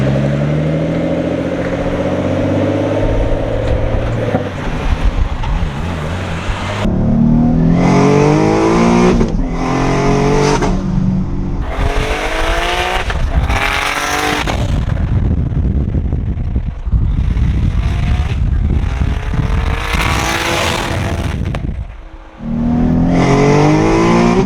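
A 600 HP twin-turbo Nissan 370Z pulling hard on a street, engine rising through repeated loud full-throttle runs with sharp shifts between gears, turbo whoosh and brief lifts, close and dominant, ending with a quick drop and renewed surge.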